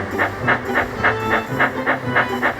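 A steam engine puffs in a steady, even rhythm of soft chuffs, close and moderately loud over a low rumble.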